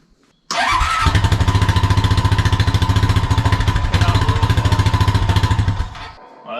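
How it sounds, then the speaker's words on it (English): A Honda ATV left sitting outside for years starts at once and settles into a loud, close, fast pulsing idle. It holds for several seconds, then cuts off abruptly. "I think we are ready to start this thing up"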